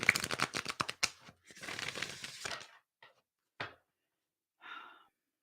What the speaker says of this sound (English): One more shuffle with this, and we are very ready.